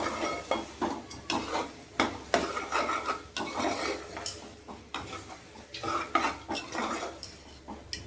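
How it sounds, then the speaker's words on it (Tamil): A spoon stirs mushrooms through thick ground masala in a pan, scraping and clinking against the metal in a steady, irregular rhythm, close and fairly loud with a faint sizzle underneath. "நல்லா மசாலா திரண்டு வர்ற மாதிரி இந்த காளான் நல்லா திரட்டிக்கலாம்"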